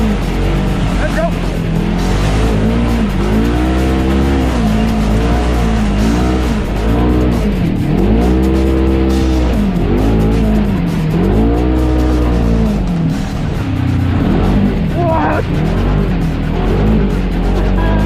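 A Polaris RZR Turbo off-road vehicle revs and races loudly nearby, engine pitch rising and falling in repeated surges, with voices talking over it.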